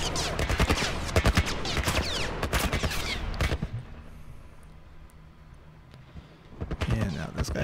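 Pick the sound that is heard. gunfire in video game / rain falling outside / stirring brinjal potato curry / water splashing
gunfire in video game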